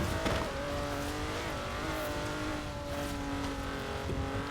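Race car engine in a racing video game set on the Stelvio circuit, a steady loud droning whine with shifting tonal bands as the car drives past, continuous throughout with no talk.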